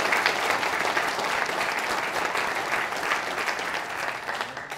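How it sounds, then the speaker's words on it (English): An audience applauds the volunteers at a Macedonia friendship award ceremony, a sustained, even round of clapping from a crowd that holds steady and tapers slightly near the end. "I think the volunteers certainly deserve a round of applause for the hard work"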